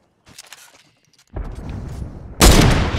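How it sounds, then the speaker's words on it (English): Video game gunfire rings out in sharp bursts, starting with a few light shots, then a loud sustained barrage that grows even heavier near the end. "Just keep shooting at him."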